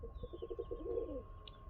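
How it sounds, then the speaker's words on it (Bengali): Pigeons coo close by in a short soft burst, a quick run of low throaty pulses rolling into a drawn-out warble, faint and alone. "চলো আসো, পায়রাদের খাবারটা দিয়ে দিই।"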